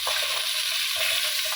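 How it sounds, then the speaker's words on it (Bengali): Ridge gourd pieces frying in a pan of hot oil, added after potato, papaya and aubergine for a vegetarian dish, give a steady close sizzle with a few soft stirring scrapes throughout. "তারপর আমি ঝিঙেগুলো দিয়ে দিলাম"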